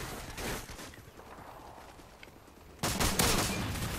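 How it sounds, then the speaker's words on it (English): Shotguns fire in the Modern Warfare 2 video game, a flurry of shots up front, then a quieter lull, then another loud close volley near the end. "I hear shotgun mayhem."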